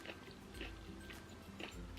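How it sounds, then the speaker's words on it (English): Someone chews food at a Thanksgiving meal, soft close-up wet bites and mouth sounds repeating in a slow rhythm, faint and alone. "While I'm chewing,"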